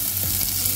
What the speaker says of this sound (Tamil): சின்ன வெங்காயம், கருவேப்பிலை இது ரெண்டையும் சேர்த்து வதக்கிக்கலாம்